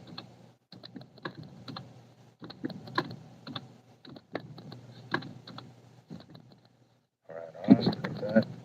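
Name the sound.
typing on a computer keyboard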